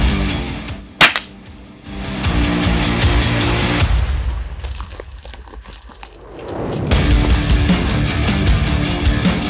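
A single sharp .22 rifle gunshot cracks out near the start during a wild boar hunt, followed by a long stretch of rumbling engine or vehicle noise outdoors.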